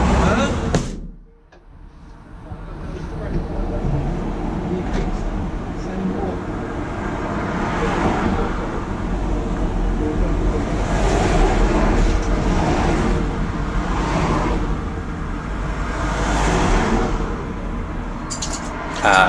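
Steady road traffic from cars passing on a nearby road, a continuous broadband rumble and wash lasting throughout, briefly dipping near the start before swelling back as vehicles go by.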